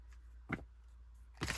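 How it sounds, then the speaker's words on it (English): Tarot cards shuffled in short bursts, with two brief papery riffles separated by quiet, close and moderately soft. "Sorry, I'm shuffling too much."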